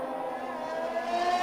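A race car engine howls past in an Xbox racing game set at Brazil, a steady high-pitched drone that rises slightly in pitch as it passes, loud and alone with no voices.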